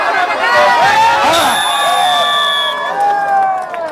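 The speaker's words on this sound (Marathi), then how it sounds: "खूप मोठी अशी फार सारी गर्दी" Large crowd cheering and shouting at a women's tug-of-war match in Gadchiroli, a dense, steady roar of many voices with rising whoops and yells throughout, loud and close.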